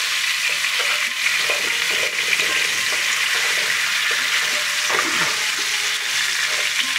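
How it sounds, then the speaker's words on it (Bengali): Steady, loud sizzling of onions frying lightly in a pan for masala dosa, with occasional stirring scrapes and no talking. "পেঁয়াজ বেশি ভাজবো না"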